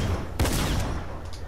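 Gunshots in the Fortnite video game, a rapid burst of loud close firing with a sharp report near the start over a dense game mix.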